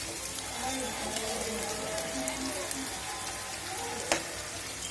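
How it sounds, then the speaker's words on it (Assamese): Onions fry for chicken biryani in a soft, continuous sizzle, faint and even, with a single sharper crackle near the end and a hint of distant voices. "পিঁয়াজখিনি ভাজি ল'ম এতিয়া ৰঙাকৈ"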